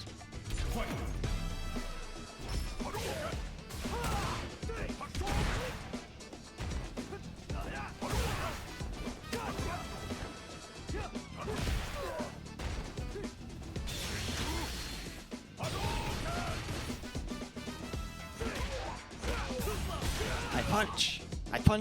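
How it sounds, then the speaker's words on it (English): Street Fighter 6 fighting game played on a Steam Deck: a constant stream of punch and knee impacts, whooshes and crashes, dense and energetic with game effects layered on top. "I punch, and then I punch some more. Well, I guess sometimes I knee him in the face too"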